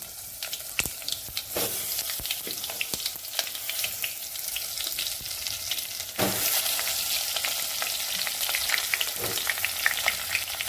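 Eggplant pieces frying and sizzling in a hot pan in a Konkan-style home kitchen: a steady crackling sizzle with sharp pops and a few stirring scrapes, close and fairly loud, with no talking.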